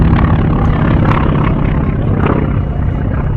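An aircraft flies low and very loud over the Apple Valley air show, a dense, deafening engine roar that fills the whole stretch without a break and holds near constant.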